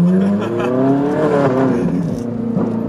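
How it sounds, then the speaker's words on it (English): A Ferrari 458 with carbon ceramic brakes braking hard: a loud, close engine note with strong tonal harmonics that sweeps and drops in pitch, steady throughout with no voices. "Brent just did a little brake test right there"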